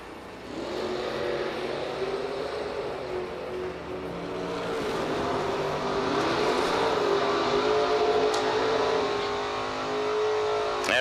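Drag racing cars at a dragway during the IHRA Summit Racing SuperSeries World Finals, engines rising in a sustained revving roar heard from a distance, building and holding with no voices over it.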